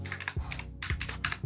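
Quick bursts of key clicks on a computer keyboard while typing into the Windows search menu, a few close taps in short clusters with soft low thuds between them.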